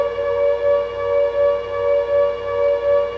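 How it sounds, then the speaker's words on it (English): A steady siren drones in the Silent Hill video game, with a strong sustained tone that swells and fades in slow regular waves, loud and alone. "the rolling sound of the sirens gained momentum"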